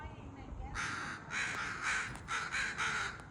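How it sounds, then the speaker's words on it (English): Agitated crows cawing in a run of harsh repeated calls, several in quick succession, fairly close over steady outdoor background noise. "These birds are angry. These crows are not Happy."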